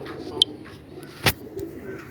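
A pigeon from a breeding pair, a large female, gives a soft low coo amid quiet background, with a brief sharp chirp and a short loud knock-like transient nearby.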